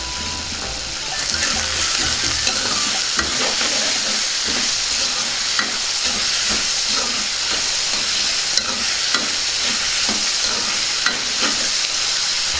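Vegetable rice with peas is stirred and fried in a pan, giving a steady close sizzle overlaid with repeated scraping knocks of the spoon throughout, with no talking.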